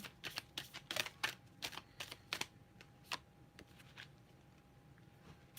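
Tarot cards being shuffled in quiet, irregular bursts of crisp riffling and flicking, close and soft, tapering off toward the end.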